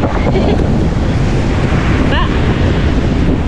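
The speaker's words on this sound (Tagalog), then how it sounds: "Alright, laki ng alon." Large ocean waves surge and roar continuously at close range, heavily buffeted by wind noise on the microphone, with a brief whistle-like tone partway through.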